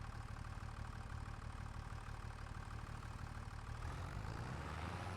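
A used ATV engine idles steadily just after starting, giving a continuous, even mechanical rumble with no pauses or revving and no talking.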